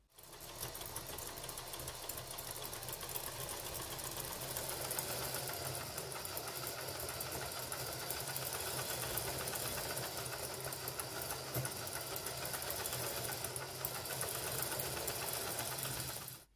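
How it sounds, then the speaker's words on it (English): A motorized LEGO automatic CVT gearbox running steadily, a faint continuous whirring mechanical hum with fine rapid ticking texture, unbroken and close throughout. "This is so cool to see, and shows that our automatic CVT is working exactly as intended."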